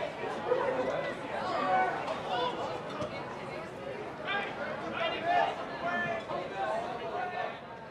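Small group of SMU Mustangs supporters making excited noise in a stadium crowd at a college men's soccer match against Cal, a steady hubbub of voices and cheers with a commentator talking over it.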